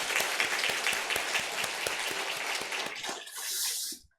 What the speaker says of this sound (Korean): 우리 한번 격려의 박수 한번 하겠습니다